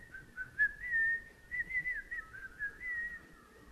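A person whistles a wavering tune in a church service setting, the melody rising and falling in short phrases across a few seconds, fairly close and alone without speech.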